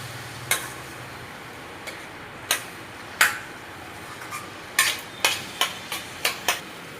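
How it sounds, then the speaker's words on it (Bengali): Masala with coconut, ginger and green chili paste is stirred and fried in a pan, with a soft sizzle under a series of sharp spatula scrapes and taps, sparse at first, then quicker and evenly spaced toward the end. "ভালোভাবে নেড়ে মিশিয়ে নিতে হবে এবং মশলাটাকে ভালো করে কষিয়ে নিতে হবে"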